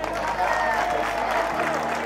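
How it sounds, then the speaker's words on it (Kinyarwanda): A school crowd claps for a Rayon Sports football team visit, a burst of applause at middling distance that fades near the end, with a voice over it. "Yitwa Adolphe, mumuhe amashyi."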